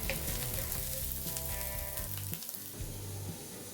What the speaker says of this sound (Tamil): வெங்காயம் சேர்த்துட்டு இது வந்து நல்லா பொன்னிறம் ஆகுறது வரைக்கும் இது வந்து வதங்கட்டும்.